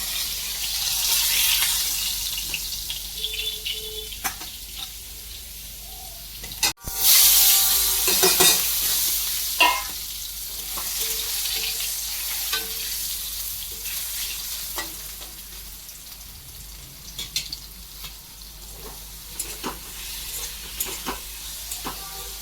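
Fish curry sizzles and fries steadily in a pan, with occasional stirring clinks and scrapes and a sharp burst of hissing partway through.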